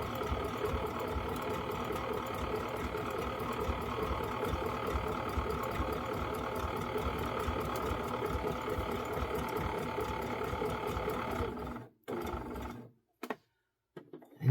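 A sewing machine stitching quilt applique runs in a fast, steady mechanical whir with rhythmic needle clatter close by, then stops abruptly near the end with a few short bursts of stitching.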